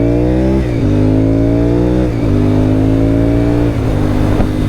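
A Honda RC51 motorcycle engine revs hard while riding through grass and gravel, a loud, close, continuous roar that climbs in pitch and drops back several times as it shifts.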